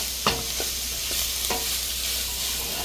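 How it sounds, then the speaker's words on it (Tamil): Beetroot for a vegetable curry sautéing in a pan, a continuous moderate sizzle broken by a few scraping stirs, with a low hum underneath and no speech. "நீங்கள் கொஞ்சம் கூட வதக்க வேணும்."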